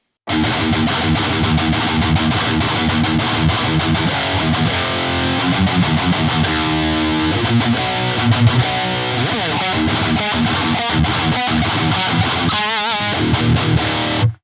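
A heavily distorted metal guitar on a Quad Cortex through an impulse response chugs and riffs continuously, thick and saturated, with palm-muted rhythms and sustained chords, no talking.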